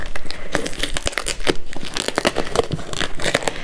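Crinkly plastic and cardboard packaging of a beauty subscription box being torn open by hand without scissors, a loud, continuous run of ripping and crumpling bursts with no talking.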